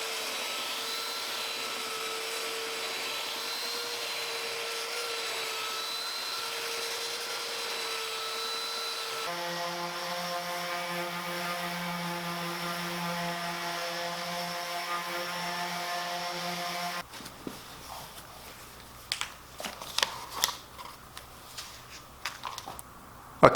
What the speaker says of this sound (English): Got to be careful with a belt sander because it's easy to gouge out one area.